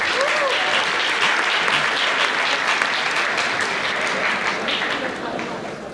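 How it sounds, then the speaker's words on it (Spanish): Dense, sustained applause from an audience at a campus festival award gala fills the hall, steady and close before easing slightly toward the end. "Un fuerte aplauso igualmente para él."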